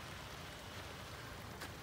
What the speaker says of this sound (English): Somehow this rain apocalypse in dry Arizona, It's a dry rain, actually.